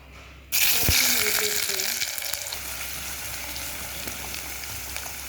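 Chopped onions, chilli and brinjal fry in a pan, giving a loud, steady sizzle that starts abruptly and holds throughout, with faint speech-like sounds over it.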